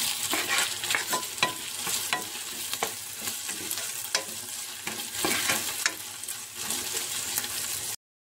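Curry leaves sizzle and crackle in hot oil for coconut rice, a steady close frying hiss punctuated by sharp pops and stirring scrapes, with no voices.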